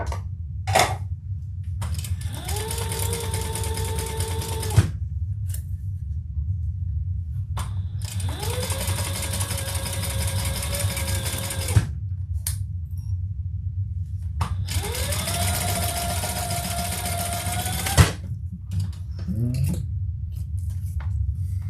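Sewing machine stitching a custom crossbody bag with thick card-slot side panels, running in three sustained bursts of steady motor whir separated by pauses, with small mechanical clicks between runs and a low background hum.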